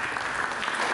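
Church congregation applauding in a dense, steady wash of claps for about a second, fairly loud and continuous.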